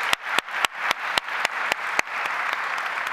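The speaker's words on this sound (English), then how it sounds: "let's have another big round of applause for Anthony." An audience at the Edinburgh International Book Festival applauds, beginning with a few sharp, evenly spaced loud claps that spread into dense, continuous clapping across the room.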